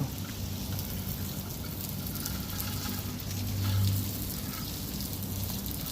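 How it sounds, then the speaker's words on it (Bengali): Water poured outdoors onto plant leaves makes a steady, soft splashing hiss, like light rain on foliage, that swells briefly near the end with no speech. "এখন আমি পানি দিতেছি।"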